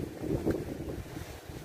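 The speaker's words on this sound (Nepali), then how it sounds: "एकदमै चिसो हावा चलिराखेको छ।" A cold wind blows hard at Hac Sa beach in Macau, a short, close, buffeting gust with rumbling roar against the microphone and no talking.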